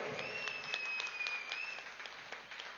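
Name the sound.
audience applause for Patri ji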